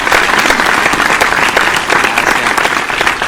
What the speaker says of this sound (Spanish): Recibamos con un fuerte aplauso al Alfa